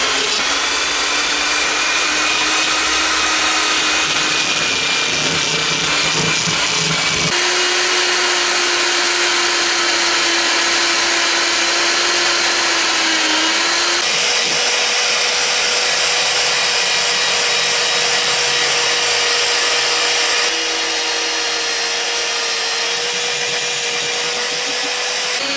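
A power sander works steadily over rusty car body panels on a Honda Jazz, a loud continuous whine and rasp that shifts pitch slightly between passes, running alone without talk.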